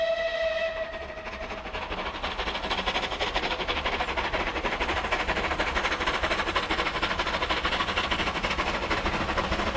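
A rebuilt Bulleid West Country Pacific steam locomotive runs past with a steady, loud rumble and hiss, opening with a brief whistle tone before the sustained noise of the train carries through.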